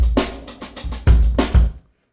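Short burst of a drum channel with the reverb placed before the EQ: loud kick and snare hits with a roomy reverberant tail, a few beats and then sudden silence.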